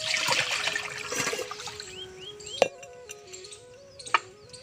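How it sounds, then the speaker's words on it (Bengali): Water splashes and trickles into a metal wok set on a lit stove, with a few sharp clinks of the pan along the way. The pouring sounds close and moderately loud, and no one speaks. "কড়াতে জল দিয়ে দেবো"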